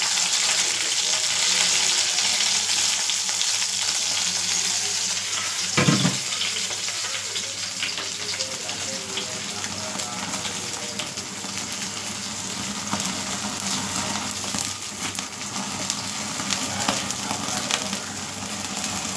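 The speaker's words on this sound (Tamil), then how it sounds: "இப்போது நம்ம இதை அடுப்பில் நம்ம சுற்றி எடுக்க போகிறோம்" Heavily spiced food roasting over a stove flame, a loud, steady close sizzle and crackle lasting throughout, with a brief knock partway through.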